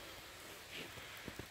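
Rain falls at a forest camp on a cold, wet mountain day as it turns to snow, making a steady soft hiss throughout with a few louder drips near the end.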